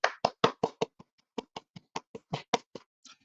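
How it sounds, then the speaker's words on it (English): A single person clapping hands alone, about a dozen sharp, close claps in an uneven rhythm with a brief pause after the first five. "I will clap for them"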